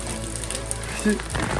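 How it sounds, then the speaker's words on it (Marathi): Heavy rain pours during a trek up Kalsubai peak, a steady, dense broadband hiss of drops striking surfaces close by, continuous throughout with no pause. "पाऊस तर थांबतच नाही."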